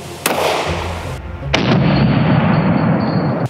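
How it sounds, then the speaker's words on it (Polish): A single 9 mm pistol shot fired at a padlock outdoors, a sharp loud crack followed by a second report and lingering ringing noise, with no talking. "Pierwszy strzał, sprawdźmy to."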